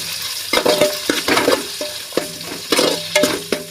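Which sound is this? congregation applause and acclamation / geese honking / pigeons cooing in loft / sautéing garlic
sautéing garlic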